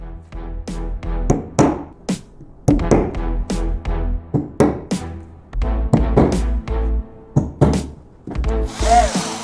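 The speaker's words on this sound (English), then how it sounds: "Here's some interesting ways to hammer a nail without hurting your fingers" A hammer strikes a nail in a rapid series of sharp, loud knocks, with dozens of close impacts coming in quick clusters and brief pauses between them.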